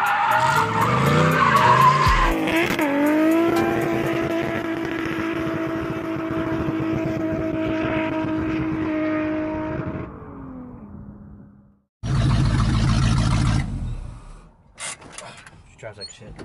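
A car engine revs hard and holds a high roar, tires skidding, then cuts off before another loud burst of revving.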